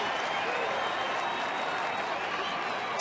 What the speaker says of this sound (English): Crowd starting to get into it now.